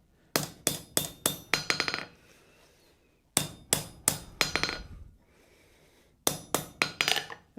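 Hammer blows on hot steel over an anvil while forging a coat hook, landing in three loud bursts of rapid ringing strikes, about five or six each, separated by short pauses.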